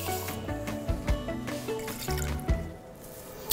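Water pours into a pot holding ginger and honey, close and fairly loud, with splashes and drips at an uneven pace and a few harder plops, and no one speaks.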